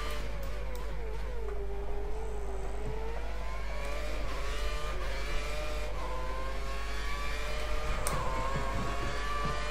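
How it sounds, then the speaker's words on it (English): F1 car in the F1 2013 racing game spinning its wheels out of a corner, a steady high engine whine rising and falling with gear changes, constant and close, no voices. "Masses of wheel spin on the run to that final corner."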